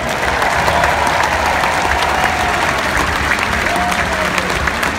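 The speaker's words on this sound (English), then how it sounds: "another giant Gator round of applause for our 2016 Senior Class" Large stadium crowd applauding and roaring for the Florida Gators senior class at a college football game, a dense continuous wall of clapping and cheering with no voices above it.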